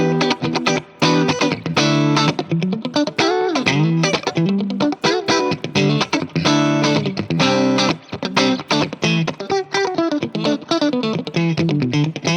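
Funky electric guitar run through a Mixwave Benson amp plugin with light reverb, playing a continuous, busy rhythmic riff with clipped chords and single-note lines, loud and close with no talking.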